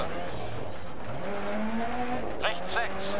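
A rally car in the racing game Dirt Rally drives with a droning engine that rises and shifts pitch, then gives brief tire squeals and skids near the end, while a voice talks over it.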